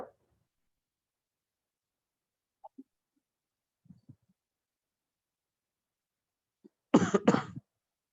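A man coughs during an online question-and-answer session: one harsh, close double cough near the end, after long near-silence with only a few faint small noises.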